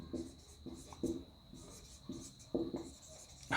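A pen writing on paper while working a maths problem, with short repeated scratchy strokes at an uneven rhythm, close and clear, with no talk over it.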